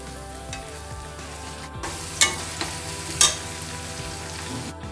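Crushed ginger garlic sizzles with pinkish frying onions in a pan for Punjabi rajma, a steady crackling hiss with a few louder bursts as the mixture is stirred.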